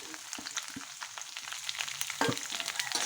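Shallots, onion and green chilli fry with coconut in a hot pan, giving a steady close-up sizzle broken by soft scrapes and knocks of a spoon stirring, with no talking.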